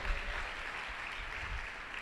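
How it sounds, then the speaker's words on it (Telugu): A church congregation at a sermon claps together, a dense, continuous patter of many hands heard at a moderate distance for about two seconds with no speech over it. "కొట్టు చప్పట్లు ఒకసారి"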